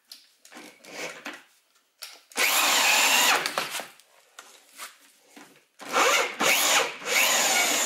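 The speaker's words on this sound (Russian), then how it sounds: "Вот этим переходником на дрель я поднимал меньше, чем за 10 секунд" An electric drill fitted with a square-drive adapter turns a scissor car jack. It runs in several loud, whirring bursts with grinding and creaking between them.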